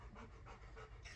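A Rottweiler pants in quick, rhythmic breaths, faint and fairly close, in a garage with no speech.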